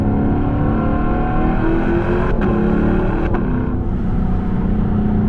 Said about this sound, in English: stock exhaust, windows up, listening to that, it just doesn't get old